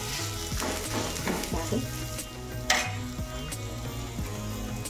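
Thalipeeth, a Marathi spiced flatbread, roasting in oil on a hot pan, giving a steady close sizzle and frying crackle with a few brief pops throughout.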